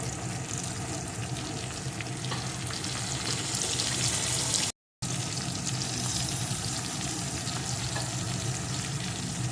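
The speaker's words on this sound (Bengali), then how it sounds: "এখন আলুটাও এর সাথে একটু ভেজে নেব" Potatoes and chopped tomatoes frying in oil in a pan, a continuous dense sizzle with soft stirring scrapes, close and steady throughout with one brief dropout midway.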